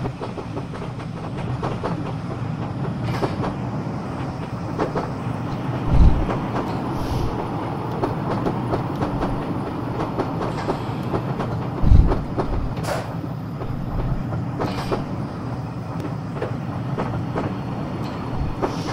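A passing train in a train driving video game set in the 1950s, with a Class 506, rumbles past with a steady clickety-clack and a couple of heavier thumps, loud and continuous with no talk.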